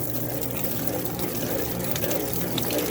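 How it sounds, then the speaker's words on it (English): A Maytag commercial top-load washer, lid up, spins hard during its rinse cycle with a Dawn detergent hack, giving a constant loud rush of churning, sloshing water and a low mechanical hum. "Oh, here goes the rinse cycle. Oh wow, it's spinning the heck out of it."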